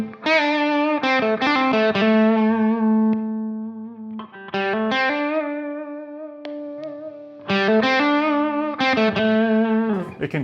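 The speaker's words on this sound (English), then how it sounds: "It can thicken up that pre-gain overdrive without adding that edge of distortion." An electric guitar through an overdrive boost pedal plays sustained chords and single notes in three phrases, thick and saturated, ringing out between strums.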